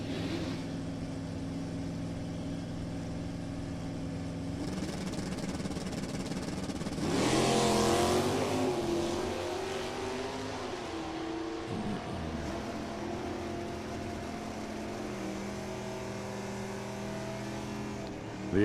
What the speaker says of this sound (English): The H and the I car running pretty close together down the racetrack